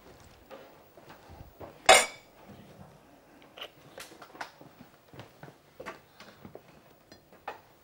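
Utensil stirring food in a cooking pot while preparing a healthy dish, giving scattered clinks and scrapes against the metal with one sharp knock near the start, fairly close and moderately quiet.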